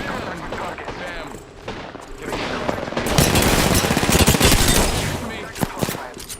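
Gunfire rattles in an Apex Legends arena match: dense automatic bursts and rapid shots pile up close and loud, growing heavier and more continuous in the second half.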